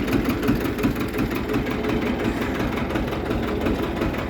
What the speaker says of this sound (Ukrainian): Бо їде трактор.